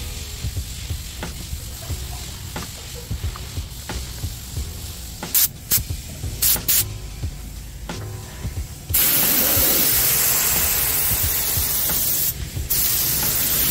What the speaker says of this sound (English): And I use a sprayer from Harbor Freight.